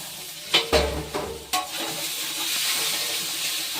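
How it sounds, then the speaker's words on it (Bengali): Salted eggplant frying over high heat in a pan: a few sharp clatters of the lid and utensil, then a loud, steady sizzle that fills the rest. "যেহেতু নুন দেওয়া আছে তাই হাই হিটে এইভাবে ঢাকা দিয়ে দিয়ে একটু এটাকে কষিয়ে নেব"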